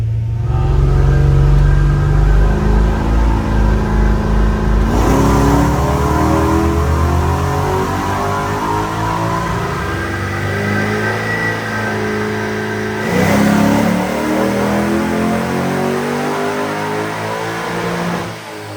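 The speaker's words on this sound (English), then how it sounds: "I'm going to give it some throttle so we can warm this thing up" A 1965 Corvette with an LS3 engine idles and is revved to warm up, a loud, close, throaty rumble climbing and falling through several throttle blips.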